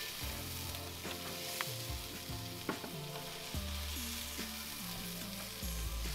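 Chilli con carne mince sizzles and browns in oil in a pan while camp cooking, a steady close frying crackle with occasional stirring scrapes throughout.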